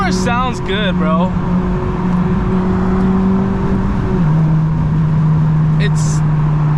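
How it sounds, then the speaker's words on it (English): Eighth-generation Honda Civic Si with a Hondata FlashPro tune, heard from inside the car: a steady engine drone holding pitch, then dropping after a shift, with people talking over it. "This car sounds good, bro."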